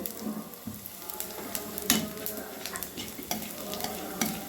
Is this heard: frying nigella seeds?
yes